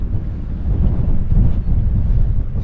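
Cold wind gusts across open, unsheltered moorland in the Foggintor and Hollow Tor area, buffeting the microphone with a heavy, low, continuous rumble and uneven surges.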